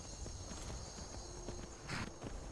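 A horse's hooves clop at a slow walk in Skyrim, the soft, irregular footfalls set against steady ambient game background noise.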